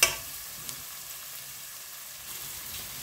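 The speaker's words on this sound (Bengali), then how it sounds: "আমি এখন পেঁয়াজ দিয়েছি আর সরিষার তেল হাফ, 4 চামচ 1 চামচ ঘি দিয়েছি।" Chopped onion fries in mustard oil and ghee for vegetable khichuri, a soft steady sizzle with a brief stir at the start, close and fairly quiet with no voices.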